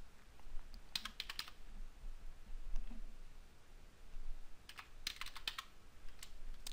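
Quiet computer keyboard typing in two short bursts of rapid key clicks, separated by a pause with a few isolated taps, in a hushed room while coding.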